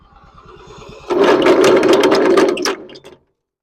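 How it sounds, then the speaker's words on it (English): A lawn mower's spindle with a loose pulley: soft low thumps, then a loud, close, rattling mechanical whir for about two seconds that cuts off abruptly as the engine stalls. "when I say the spindle is making noise"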